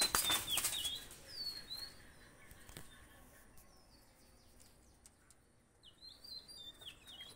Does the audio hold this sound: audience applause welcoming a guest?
no